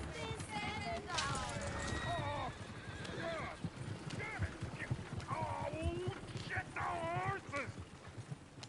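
Horses in Red Dead Redemption 2 whinny and neigh repeatedly over the clatter of galloping hooves, the calls rising and falling several times under a voice speaking.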